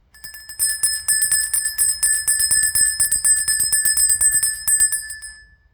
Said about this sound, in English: We are going to ring the bell.